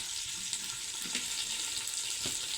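Coriander seeds and dried coconut fry in a pan for a Diwali snack mix, giving a steady, close crackling sizzle with a few light stirring scrapes and no voices.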